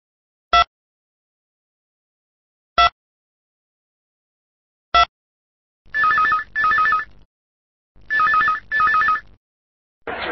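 An EPABX office telephone system after dialing: three short isolated clicks or tones, then two pairs of loud electronic double rings, close and clean with silence between.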